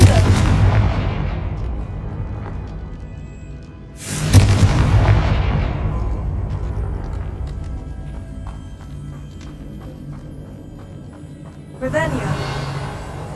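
Confringo fire curse spells blasting in the Hogwarts Legacy video game, three loud booming explosions spaced several seconds apart, each decaying slowly into a rumbling tail over a background score.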